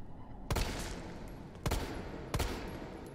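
Three sharp, loud gunshots ring out at uneven intervals in Resident Evil 3, each a crisp crack with a short reverberant tail over low steady game ambience.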